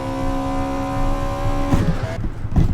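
A racing car engine in Assetto Corsa screams at high, steady revs after a botched downshift, then cuts and sputters with rough bursts near the end, loud and close, no voices.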